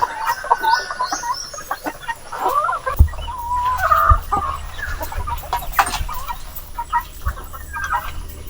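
Hens cluck and cackle while laying eggs on a small semi-organic farm, a steady close chorus of clucks and calls with a low rumbling hum underneath.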